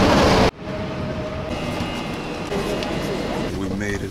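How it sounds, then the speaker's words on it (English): A passenger train travelling from Warsaw Zachodnia to Łódź rumbles steadily from inside the carriage after a sharp cut, with a constant low drone, faint rail clatter and indistinct voices. "We made it on the train, on the choo-choo train to a new city"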